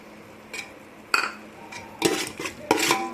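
Lemon juice being mixed into kalan dum biryani, with a spoon clinking and scraping against the pot in several short bursts, fairly close and without speech.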